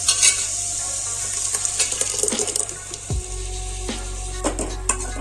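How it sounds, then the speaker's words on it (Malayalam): Ground tomato hits hot masala in a pan while making kadala (chickpea) curry, giving a loud burst of sizzling and frying hiss, with spoon scrapes and stirring clatter throughout and no talk. "അപ്പോൾ ഇനി നമുക്ക് നമ്മൾ തക്കാളി അരച്ച് വെച്ച് ചേർത്ത് കൊടുക്കാം."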